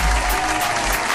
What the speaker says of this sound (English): Big round of applause just for that line right there, bro.